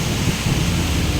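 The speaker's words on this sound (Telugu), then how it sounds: "ఫుల్ వర్షం." Heavy rain pounding on a flooded street, a loud dense roar filling the whole short stretch without a break.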